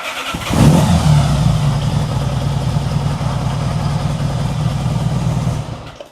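A 1975 Honda Goldwing motorcycle engine with four carburetors being tuned catches and revs up with throttle, then holds a steady, loud rumbling idle close by.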